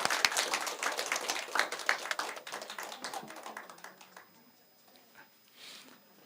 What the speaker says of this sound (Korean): 우리 축하의 박수 해줄까요?